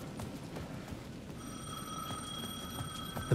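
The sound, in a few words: payphone ringing in the video game Alan Wake II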